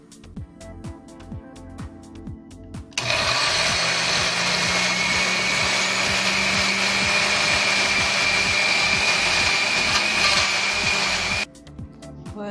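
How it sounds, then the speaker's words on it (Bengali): An electric blender purees shrimp with pointed gourd (potol) for a Bengali bharta, giving a loud, steady, high-pitched whir that runs for about eight seconds, with background music before and after. "এখন আমি ব্লেন্ড করে ফেলবো।"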